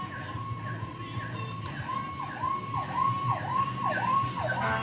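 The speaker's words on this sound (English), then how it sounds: "there is a loud siren outside." A loud emergency siren outside sweeps up and down in repeated wailing cycles, growing stronger toward the end over a faint background murmur.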